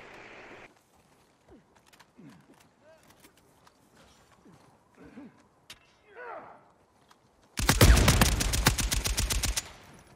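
Rapid, loud automatic gunfire bursts out in a sustained rattling volley near the end of a team deathmatch in Uncharted 4, after a stretch of quiet clicks and scattered game sounds.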